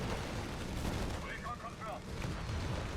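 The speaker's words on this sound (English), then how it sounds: "Fluff Waffle continues his hold of mid, even under artillery fire." Muffled booming artillery fire from the video game Company of Heroes 3, a dense rumbling wash of distant explosions that runs steadily throughout, mixed with other battle noise.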